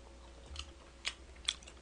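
Chewing yellowtail and mullet sashimi dipped in ssamjang, three or four faint, soft wet bites close to the mic in a quiet setting.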